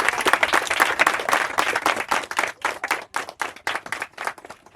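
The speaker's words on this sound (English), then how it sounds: "Let's give them a round of applause." Audience applause for a family who has just sung a song at an African cultural village, a dense burst of many hands clapping that thins into scattered, separate claps toward the end.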